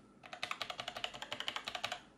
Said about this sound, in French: on a des clics qui s'activent vraiment très rapidement